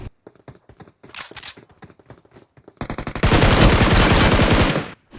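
Gunfire in a shooter video game: scattered single shots and short bursts, then a loud, dense sustained burst of automatic fire lasting about two seconds near the end.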